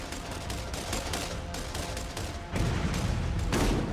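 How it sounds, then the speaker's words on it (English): A Merv grenade in Borderlands bursts into a string of smaller blasts, loud rapid crackling detonations that continue for several seconds and swell heavier toward the end, with no voices. "It actually explodes, breaking it into little pieces, each of which explode, and just completely took out this camp."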